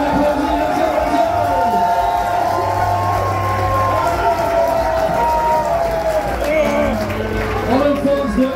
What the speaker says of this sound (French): Laissons applaudir le Canadien.